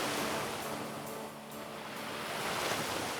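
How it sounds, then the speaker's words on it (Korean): Ocean waves roll against the rocky East Sea coast along a seaside boardwalk trail, a continuous close wash of surf with gusting wind noise. "저절로 조용해지고 이 파도 소리에 귀 기울여 되는 것 같아요"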